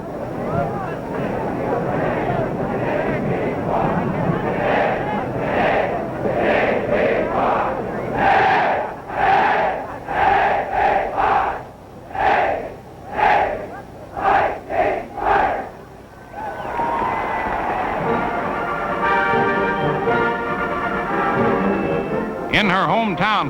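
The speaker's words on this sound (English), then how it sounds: "Now here's a Navy cheer." Navy midshipmen in a packed stadium crowd at the Army-Navy football game roar a rhythmic chant in pulsing bursts, followed by a sustained swell of cheering with a narrator talking over it.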